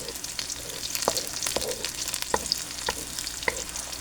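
Garlic frying in a pan gives a crackling sizzle with sharp pops and ticks scattered irregularly through it, close and moderately loud, with no talk over it.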